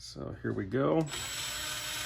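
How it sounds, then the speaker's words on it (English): A drill bores holes for a 10 watt RGB laser build, a steady whirring grind that runs evenly after a brief spoken line and some handling noise. "make sure you got a really sharp drill bit, because you don't want it to walk around, so you can get those holes centered"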